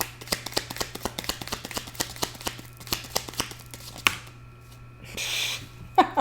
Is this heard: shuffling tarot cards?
yes